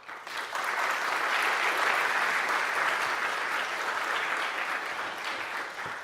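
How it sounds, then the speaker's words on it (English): An audience at a 2018 issue forum on the role of the media gives the panelists a sustained round of applause, a dense even wash of clapping that swells quickly and holds for several seconds. "Let's give our panelists a round of applause."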